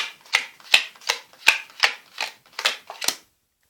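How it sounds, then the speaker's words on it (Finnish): Playing cards dealt one by one into two piles during a card trick, eight quick crisp slaps and flicks at an even pace, close and clear with no talking. "Jaetaan kortit 2 pakkaan"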